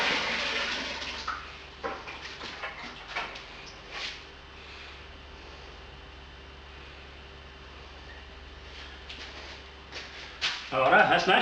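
Water rushes steadily into a brew kettle to make mash water for a homebrew hazy beer, a continuous hissing pour with a few knocks and clunks over it, a louder splash near the end.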